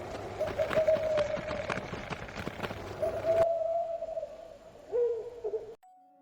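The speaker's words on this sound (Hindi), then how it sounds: "कभी कभी दूर से आती किसी उल्लू की चीख" A distant owl calls out over a steady engine hum, its tonal cry rising and falling before the sound cuts away abruptly near the end.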